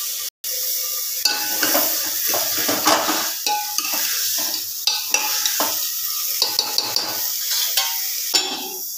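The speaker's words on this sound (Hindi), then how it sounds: "अब सब्जी हमारी भुन गई है।" Chopped vegetables sizzle loudly in a hot pan of spiced masala in a home kitchen, with a spoon repeatedly scraping and clinking against the metal as the mixture is stirred continuously.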